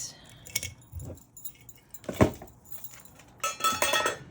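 Small metallic clinks and jingles of a rusty safety pin in a few short bursts, close and fairly quiet, with a busier rattle near the end.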